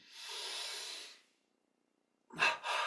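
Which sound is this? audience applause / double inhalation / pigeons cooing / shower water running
double inhalation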